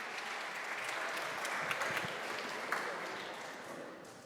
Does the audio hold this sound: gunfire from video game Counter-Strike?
no